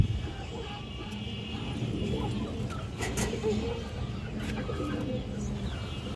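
Pigeons, including a female, kept by a seller in Bangladesh: soft cooing and rustling of birds close by under a steady background hum, with faint voices in the mix.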